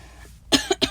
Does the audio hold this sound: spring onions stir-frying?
no